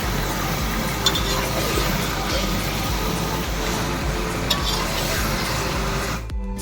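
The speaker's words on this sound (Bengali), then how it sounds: "এর মধ্যে এবার কেটে রাখা আলুগুলো দিয়ে আরো ভালো করে কষিয়ে নেব" Chicken and cut potatoes sizzle and fry steadily in a pan for Bengali murgir lal jhol, with continuous stirring and scraping throughout; a loud, dense cooking bed with no talk.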